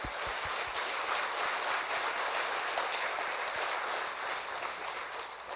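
An audience at a church seminar applauds steadily throughout, a dense, even wash of clapping with no talking over it.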